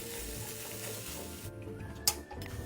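Sweet-and-sour chicken wings stir-fried in a pan with a little added water, making a steady close sizzle with stirring, then a sharp metallic scrape of the utensil near the end.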